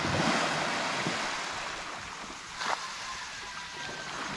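Calm sea waves lapping at a quiet shoreline, a soft and fairly distant wash of surf with light wind, one slightly louder swell midway, and no voices.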